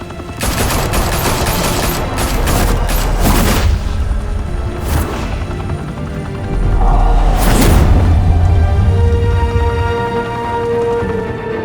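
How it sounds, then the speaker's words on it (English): Heavy gunfire in Batman The Telltale Series, loud sustained volleys of overlapping shots with booming impacts, continuing in bursts with a brief lull and a fresh barrage, close and dense throughout. "Open fire!"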